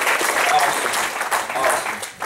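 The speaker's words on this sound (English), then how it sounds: "I want y'all to give yourselves a round of applause first of all." A church congregation at a cowboy church service claps steadily for about two seconds, a dense, close crowd applause with a few voices mixed in.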